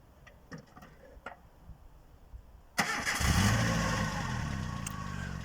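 A car engine starts during a driving lesson at a Kherson driving school. A few faint ticks come first, then the engine catches with a sudden burst and settles into a steady, close idle.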